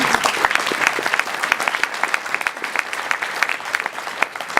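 Gala audience applause fills the room, steady dense clapping with sharp individual claps standing out, no voices over it.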